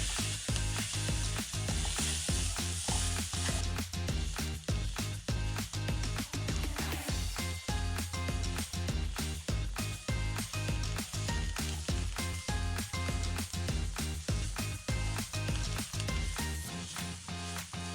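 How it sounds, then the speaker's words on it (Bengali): Potatoes and boiled eggs are stirred into sizzling spice masala in a pan for Bengali egg curry, with a hot frying hiss under regular, rhythmic spatula scrapes close up and no talking. "আমি এরকম সময় আলু আর ডিমটা অ্যাড করে দিলাম। এগুলোর গায়ে ভালো করে মশলাটা"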